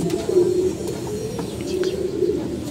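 Pigeons coo in low, soft, repeated murmurs close by, with a few faint chirps in the background.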